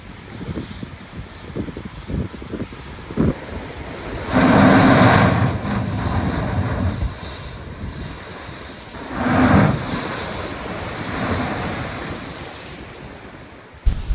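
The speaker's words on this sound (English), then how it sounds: "it was really cool to listen to the noise when the water came rushing into the blowhole" Sea water surges into a rocky coastal blowhole in the Australian outback, two loud rushing whooshes rising over a constant background of surf and gusting wind on the microphone.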